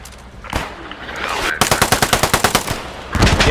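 A machine gun fires in the World War II video game Post Scriptum, first with scattered shots, then a loud, close, rapid burst of about a dozen evenly spaced rounds, with another burst starting at the end.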